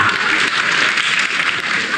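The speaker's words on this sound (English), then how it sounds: "A round of applause?" A comedy show audience in London breaks into loud, sustained applause, a dense wash of many hands clapping at once with no gaps, close and full.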